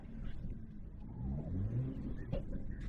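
Low exhaust rumble from a BMW 335i E92 with the N54 engine, a steady deep idle-like drone with slight rises in pitch, heard up close and fairly quiet.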